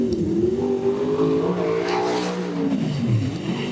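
A sprint car's engine drones and revs as it laps a track during time trials, a steady loud roar that swells and shifts pitch as the car passes, heard alone without voices.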